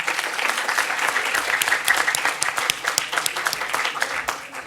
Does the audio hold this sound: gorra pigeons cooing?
no